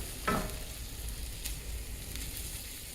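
Ground beef and beans fry in a skillet, a steady sizzle with a sharp crackle at the start and a few brief pops scattered through, close and continuous.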